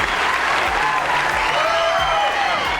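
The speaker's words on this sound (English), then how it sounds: "Still applauding." Studio audience applause on a late-night talk show, loud and sustained throughout with a dense, steady roar of clapping and crowd noise.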